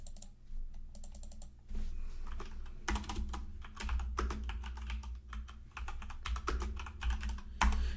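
Bursts of clicky keystrokes on a computer keyboard as a search is typed, close and fairly loud, coming in uneven runs with short pauses between them.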